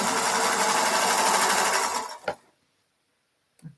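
A sewing machine runs in a steady, loud whirring burst for about two seconds, then stops with a short clunk, followed by silence and a faint knock.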